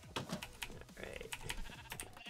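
Minecraft sheep bleat in a pen, several short bleats in quick succession over keyboard clicking, with a voice briefly audible.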